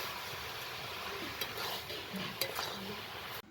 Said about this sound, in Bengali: মশলাটাকে ওর মধ্যে ভালো করে নেড়ে নিচ্ছি